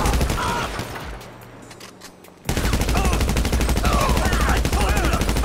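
Loud automatic gunfire and rapid shots in GTA 5 during a rooftop shootout in a real-life mod, a quieter stretch giving way to a sustained dense burst of firing.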